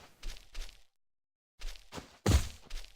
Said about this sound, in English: They got 6 legs and they make this weird noise for footsteps.